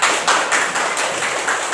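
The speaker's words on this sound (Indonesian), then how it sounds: "Tepuk tangan untuk kita semuanya." A class of students claps hands together at the end of a lesson, a short steady burst of clapping heard close and fairly loud, with no talk.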